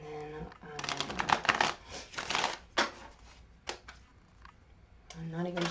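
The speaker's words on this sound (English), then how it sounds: "I'm going to do a couple of shuffles here on camera for you" Someone shuffles a tarot card deck with a run of crisp papery riffles and flutters that rise and fall, and a person speaks briefly at the start and again at the end.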